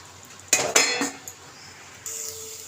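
A lid clanks off a cooking pot of ridge gourd, with a couple of sharp metallic clinks close by followed by a lighter knock and a soft hiss from the uncovered pan.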